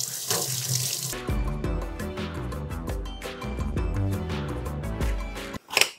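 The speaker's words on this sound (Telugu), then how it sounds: "అలాగే మిర్చి కడుక్కుందాం." Tap water runs over onions and chillies being washed in a kitchen sink, starting with a hiss, then a steady close splashing stream with clattering handling, stopping near the end.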